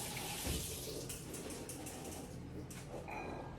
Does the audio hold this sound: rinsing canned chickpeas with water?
yes